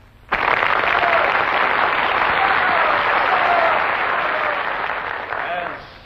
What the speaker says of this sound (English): I experienced more of a thrill than tonight, hearing your applause for the fine talents of Linda Marsh.